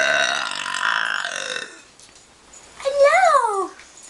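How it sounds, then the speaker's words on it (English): A person lets out a loud, drawn-out burp close up, followed after a short quiet gap by a cat meowing nearby. "Burp in her face."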